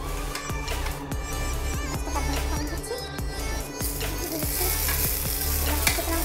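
Dried red chillies, mustard seeds and salt sizzling and crackling in hot oil, a steady loud fry with frequent sharp pops and spatters throughout.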